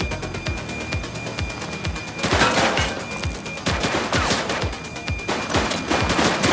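Rapid gunfire from a police shootout in the video game The Precinct, with bursts of overlapping shots cracking steadily and growing denser and louder partway through, with no talking.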